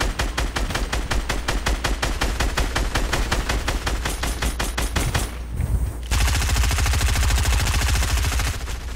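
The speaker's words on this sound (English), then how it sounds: "Oh, he's shooting it down." Rapid automatic gunfire in Fortnite Battle Royale, a loud, close stream of evenly spaced shots that pauses briefly, then resumes as a faster, denser burst with fast repeated cracks continuing to the end.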